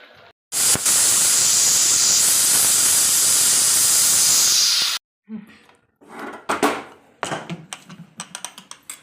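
A pressure cooker cooking vari rice (barnyard millet) for a fasting dish lets out a loud, steady hiss of escaping steam for about four seconds, then it cuts off, followed by scattered clinks and taps nearby.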